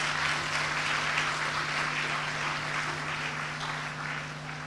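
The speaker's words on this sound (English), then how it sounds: "I'm asking you to give her a bigger round of applause." An audience at a World Food Day event claps in a sustained round of applause, a dense, even patter of many hands heard from within the crowd over a low steady hum.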